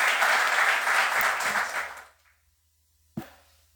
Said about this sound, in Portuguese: Quero que você aplaude ao Senhor.